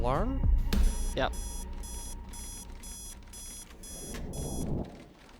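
Alarm clock in the horror video game The Operator, ringing in a regular series of bright electronic beeps after a burst of other game noises, loud and close, continuing for several seconds.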